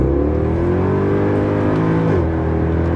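Mercedes W204 C63 AMG V8 pulling hard under acceleration in second gear, a loud, steady engine roar with rising harmonics that drops briefly near the end as the gear changes, heard from inside the car.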